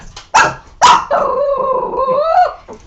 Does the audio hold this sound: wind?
no